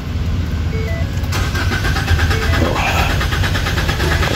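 A Ford Taurus 2.0L engine cranks continuously without catching, a steady, rapid, loud starter churn heard up close.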